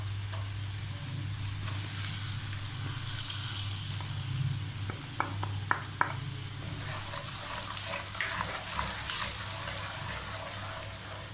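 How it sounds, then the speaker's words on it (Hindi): Masala paste with tomato puree sizzles and fries steadily in a pan for a highway truck-hotel style white mash dal, a continuous close crackling hiss with a few small clicks of stirring. "मसाले को अच्छे से भून लेंगे"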